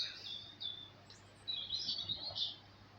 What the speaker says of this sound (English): You can hear the little birds out there now, chirping away, which is lovely.